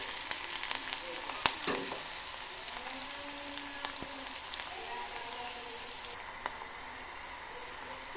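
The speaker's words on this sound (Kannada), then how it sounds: "ಅದಕ್ಕೆ ಸ್ವಲ್ಪ ಕೆಂಪದಾಗಿ ಆಗೋವರೆಗೂ ಸ್ವಲ್ಪ ಫ್ರೈ ಮಾಡ್ಕೊಳ್ಳಿ" Masala rice ingredients frying in a pan until browned, a steady soft sizzle with occasional clicks and scrapes of stirring, moderately close and without speech.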